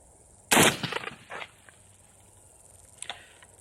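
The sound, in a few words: VRF14 firing light loads, gunshots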